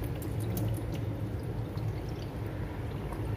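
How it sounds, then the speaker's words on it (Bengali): Rice washed in water, a steady, close rush of sloshing and trickling liquid that holds at an even, fairly loud level throughout. "চালটা ধুয়ে নেই"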